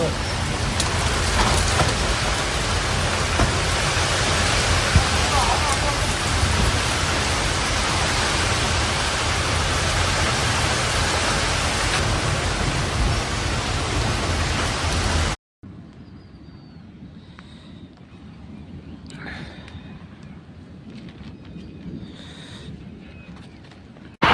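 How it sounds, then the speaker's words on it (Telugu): Heavy rain pours down in Telangana, a loud, dense, steady hiss. It breaks off abruptly into a quieter scene with faint background voices. "ఒకసారి ఆ వర్షం సంబంధించిన దృశ్యాలు చూద్దాం."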